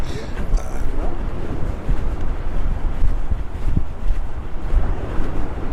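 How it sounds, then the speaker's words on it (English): Gusty wind buffets the microphone with a low rumbling roar on the sea walk in West Vancouver, mixed with the wash of surf nearby, continuous and fairly loud. "it is a bit windy today"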